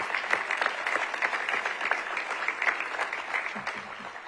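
Applause fills the room at an annual awards ceremony, a dense, steady clatter of many hands clapping together, close and fairly loud with no break over the few seconds.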